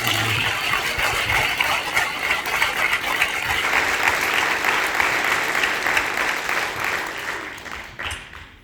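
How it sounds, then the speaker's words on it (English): An audience applauds the speakers at the close of a talk, a dense, steady wash of clapping that holds for several seconds before tapering off near the end. "Please give them all a round of applause"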